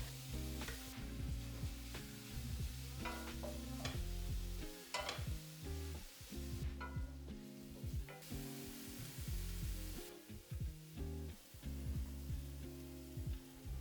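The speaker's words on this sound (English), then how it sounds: "I warm olive oil and sauté the mushrooms and walnuts with half a teaspoon of salt until lightly browned" Mushrooms and walnuts sautéing in olive oil with salt over medium heat, a quiet sizzle broken by frequent scraping stirs and clattering utensil contacts, fairly faint, no voices.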